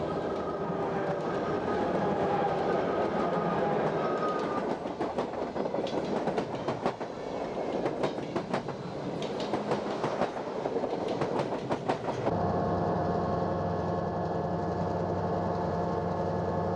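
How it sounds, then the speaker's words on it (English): Great Northern's Empire Builder passenger train, number 3, runs westbound near Summit west of Glacier Park in summer 1956, a steady loud rumble of cars with rhythmic clickety-clack of wheels over rail joints and diesel engine drone, no talk. "the Empire Builder, train number 3, is westbound for Seattle."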